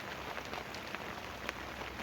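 Steady rain falling in Sihor near Bhavnagar, Gujarat, a dense even hiss of drops striking surfaces, with a few sharper nearby splats, continuous throughout with no voices.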